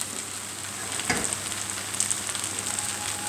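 Vegetables, prawns and egg noodles sizzle in a hot pan during a stir fry, a soft steady frying hiss with a few sharper crackles and spatters.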